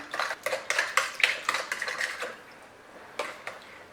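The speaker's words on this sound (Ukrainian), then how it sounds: "Ретельно все перемішую." A spoon clinks and scrapes rhythmically against a bowl while stirring yeast and sugar for challah dough, a quick run of close, bright taps that slows and fades toward the end.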